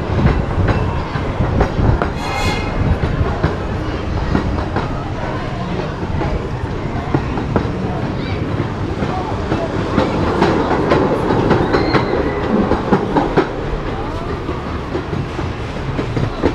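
Pleasure Beach Express ride at Blackpool Pleasure Beach, a loud, steady rumble of the train rolling on its track with rhythmic clickety-clack from the wheels, close and continuous throughout.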